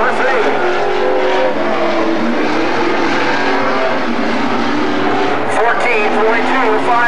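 Race car number 3, driven by Frank Steiner, running on a track during timed laps; a loud, sustained engine roar with shifting pitch fills the whole stretch while a voice talks over it.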